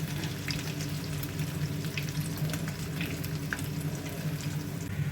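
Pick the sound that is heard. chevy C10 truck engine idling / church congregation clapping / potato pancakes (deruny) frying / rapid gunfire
potato pancakes (deruny) frying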